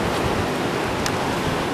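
Ocean surf at Anglet beach on a falling tide, with long west-southwest swell giving small waves of about half a metre; a steady, loud wash of breaking waves fills the whole stretch, roughened by wind noise, with no voices.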